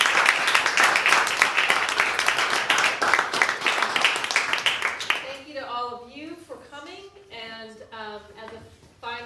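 An audience gives the panelists of a Seattle homeownership event a round of applause; dense clapping fills the first half, then fades as a voice begins speaking over the tail.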